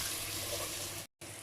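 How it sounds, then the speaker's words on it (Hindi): Water is poured into a cooking pan of mixed spices and garam masala for an egg and spinach curry, a steady broadband splashing pour that runs for about a second before cutting off briefly, with no talk. "इसमें थोड़ा थोड़ा सा पानी ऐड करते हुए हम इसकी करेंगे भुनाई मसाले की"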